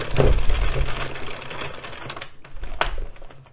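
An addi Express Kingsize knitting machine cranks through rounds of a striped hat, giving a steady clattering mechanical rattle that thins out briefly before one more sharp clack and a renewed burst.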